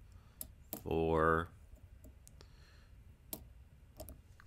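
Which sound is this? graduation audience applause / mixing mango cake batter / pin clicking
pin clicking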